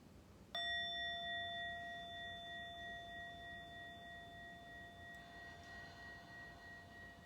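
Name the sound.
bell ringing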